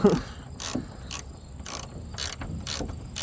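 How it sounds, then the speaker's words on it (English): Electric ratchet backing out top bolts on a 2012 Jeep Wrangler, giving a series of short buzzing whirs, roughly five bursts spaced at even intervals, close and fairly loud. "This is where my electric ratchet comes in handy."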